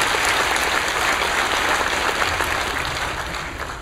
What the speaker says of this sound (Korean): 하나님께 감사의 박수 올려드리겠습니다